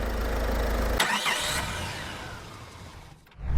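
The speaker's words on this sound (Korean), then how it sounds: "현재 공회전 아이들링 상태고요." A Genesis GV70 2.2 diesel ticks over at idle, a low steady engine hum that holds close and even for several seconds before dropping away near the end.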